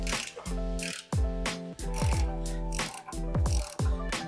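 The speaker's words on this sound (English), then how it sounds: "using 15mm socket, I am going to remove, like I said, 2 of these" Ratchet wrench with a 15mm socket loosening bumper bolts on a Ford Bronco, a close, rapid metallic clicking in repeated bursts with short pauses between strokes.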